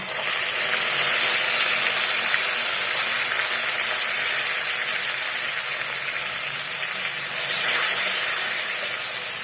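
Green chili and ginger paste hits hot oil in a pan and sets off a continuous, fairly loud hiss of sizzling that holds steady throughout, close by and without talk.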